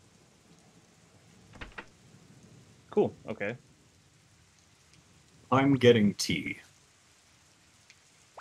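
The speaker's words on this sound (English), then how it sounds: "It's a nasty rain. Gives me the shivers." Steady rain from the Suikoden video game patters faintly in the background while a person talks over it in short bursts.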